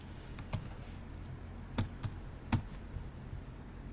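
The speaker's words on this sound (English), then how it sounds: "I'm just typing out Gimp." Sparse, irregular clicks of keys being pressed on a computer keyboard, quiet and close, with short pauses between strokes.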